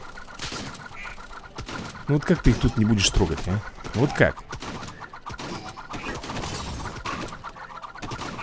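Owl enemies in the mobile game Swamp Attack 2 give several loud hooting, cooing calls in the middle stretch, set against steady game sounds while someone talks over them.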